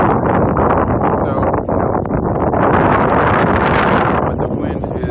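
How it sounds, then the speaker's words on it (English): Loud gusting wind roaring through trees on a mountaintop, a dense, buffeting rush that blasts against the microphone continuously with no letup. "the wind is loud in the trees"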